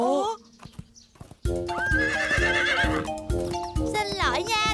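A cartoon horse neighs with a loud, rising whinny, with rhythmic clip-clopping hooves beneath it and a brief jingle. Music and voices are also present.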